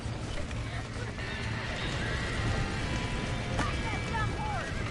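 Trapped horses in the Red Dead Redemption video game whinny and neigh over hoof clatter and a rainy, noisy backdrop, with a voice speaking over the commotion.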